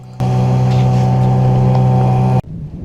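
A new Yamaha outboard motor on a dinghy in the Bahamas runs with a loud, steady, humming drone that starts abruptly, holds for about two seconds, then cuts off, leaving faint background noise.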